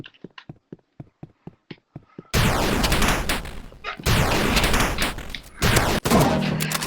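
Gunfire in the video game Rivals: a string of sharp single shots, then dense, loud, sustained bursts of rapid fire and booming blasts that fill the rest of the moment, with no speech.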